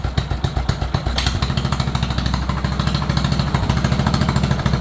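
John Deere tractor engine idling low, a loud close, steady chugging pulse with a slight clatter and a brief rev near the start.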